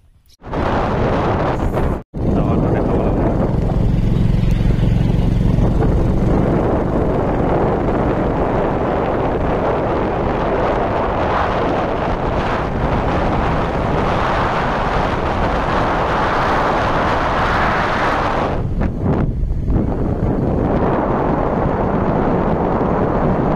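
Constant roaring wind buffets the microphone while riding a motorcycle toward Dudhnoi market, a loud steady rush with a low engine hum underneath, broken by a brief dropout near the start and a dip near the end.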